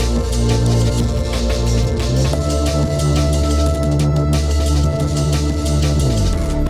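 A late-90s style ambient liquid drum and bass jungle track, with a PS1 racing game feel, plays loud and continuous, layered sustained pads over a dense, fast rolling beat.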